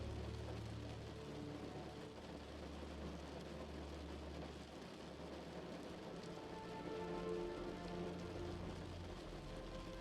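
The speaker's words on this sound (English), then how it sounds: "the gentle sound pattern of water droplets affirm your every relaxing sensation" Steady rain patters on a window and surfaces, a soft continuous hiss of droplets with faint low rumble beneath, gentle and even throughout.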